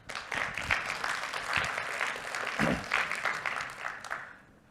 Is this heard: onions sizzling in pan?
no